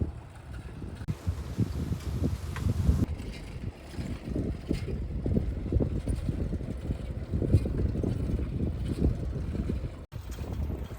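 Breeze blowing outdoors along a path in the Everglades, a continuous soft rushing with gusty swells and low wind buffeting on the microphone, no talking.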